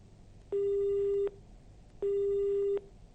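Two identical steady telephone tones, each lasting under a second with a short gap between, signal a disconnected call; the beeps are clear and alone over faint background hiss.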